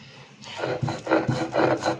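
Boiled jackfruit seeds are mashed by hand with onion, garlic and salt, giving soft rhythmic grinding and rubbing strokes, close up and moderately loud.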